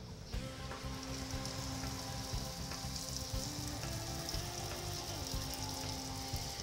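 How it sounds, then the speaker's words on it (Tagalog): A lumpia wrapper deep-fries in hot oil, producing a soft, continuous bubbling sizzle that stays even and fairly quiet throughout. "Kumuha po tayo ng kutsaro, ilapat po natin ganyan, at i-deep fry po natin."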